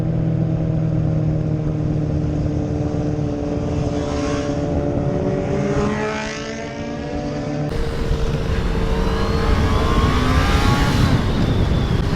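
A Kawasaki ZX10R or Honda CBR650R sport motorcycle revs hard at night, the engine note rising and sweeping past in loud flyby passes with a sudden louder, brighter surge near the end; no talking.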